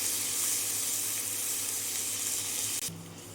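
Two thinly sliced medium onions frying in a pan give a steady, close, hissing sizzle that runs unbroken, then drops abruptly near the end.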